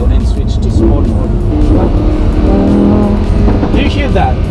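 A Lamborghini Huracan V10 in sport mode with its exhaust valves open, driven in California, sends out a loud, steady engine drone that swells and eases under acceleration, close up from inside the cabin, with a voice now and then.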